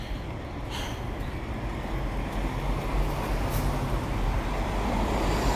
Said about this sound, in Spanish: cómo puedes escuchar todo, el ruido, el viento que te arroja la embestida de la velocidad con los autos